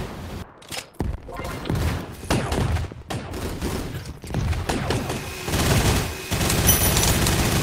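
Rapid bursts of shotgun fire in a video game, loud and dense, with several clustered blasts and overlapping shots over continuous game noise.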